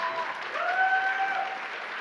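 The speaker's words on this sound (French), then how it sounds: "On peut l'applaudir encore bien fort." Audience at a cosplay contest keeps up a warm, continuous round of applause, the clapping swelling slightly midway, with a faint whistle or cheer rising above it.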